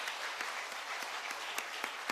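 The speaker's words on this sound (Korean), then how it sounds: "우리 다 같이 하나님께 영광의 박수로 찬양 올리겠습니다" Congregation clapping together during a church service, a brisk, continuous patter of many hands with a few sharper claps standing out.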